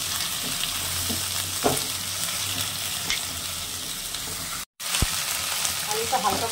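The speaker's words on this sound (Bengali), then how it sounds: "আলুটা হালকা করে ভেজে নিয়েছি।" Potatoes frying lightly in oil in a home kitchen, a continuous close sizzle with occasional stirring knocks and a brief dropout partway through, no talking.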